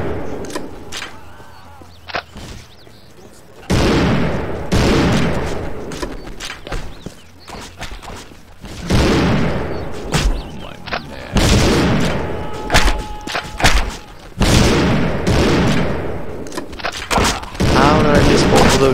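Loud gunfire and heavy booming blasts from the video game Postal 2, coming in irregular bursts and thumps over a noisy game soundscape, with some quieter stretches in between.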